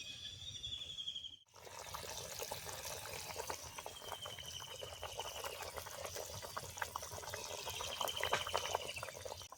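Fish curry broth bubbles in a covered pot at a low, steady level, a dense watery churning with a faint tonal whine drifting above and a brief dropout near the start.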